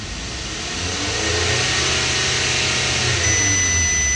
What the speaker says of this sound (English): If I rev up the engine a little bit